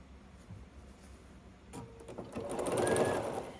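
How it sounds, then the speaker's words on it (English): A sewing machine stitching pieced quilt blocks together starts softly and then whirs up into a fast, steady mechanical hum near at hand, with light clicks as it gets going. "we'll just turn this sideways once more and then start sewing these together"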